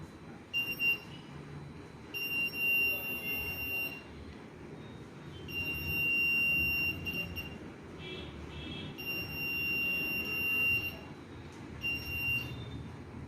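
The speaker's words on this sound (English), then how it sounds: "This gadget provides a buzzer sound when a person comes" A high-pitched electronic buzzer on an Arduino Nano ultrasonic proximity sensor sounds in long steady tones, stopping and restarting several times over a low rumbling background.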